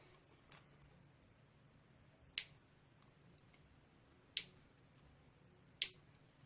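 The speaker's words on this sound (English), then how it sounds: "I'm going to cut these leads on the bottom here." Four sharp, quiet clicks spaced about a second or more apart as component leads are snipped on the underside of a circuit board, with near silence between each cut.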